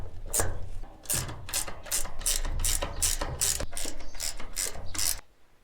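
A ratchet tightening a draper mat on a harvester deck, with about a dozen sharp, evenly paced clicking strokes heard up close and loud, ending abruptly.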